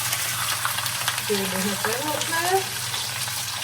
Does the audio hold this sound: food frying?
yes